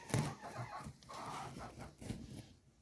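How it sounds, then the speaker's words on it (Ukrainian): A young white hen sits on a straw nest in a coop, giving a few soft, uneven clucks and murmurs up close, with brief louder bursts near the start and again toward the end. "Ось сидить курочка. Молода, вайт."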